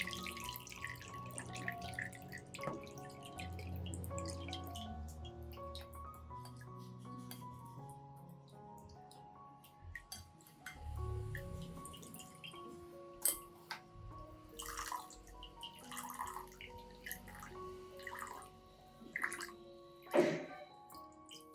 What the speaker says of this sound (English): After blending, I'll strain out the pulp and keep the nutrient-rich liquid.